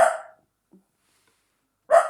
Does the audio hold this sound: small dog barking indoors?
yes